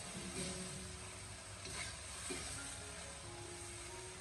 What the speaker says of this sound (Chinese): 然后再继续开大火进行快速的翻炒，把葱段和青辣椒翻炒至成熟